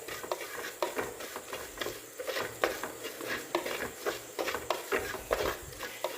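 Ground black pepper heating and being stirred in a pan for a Kerala-style mackerel curry, with a steady soft sizzle and repeated scraping strokes of a spoon close up, no talking.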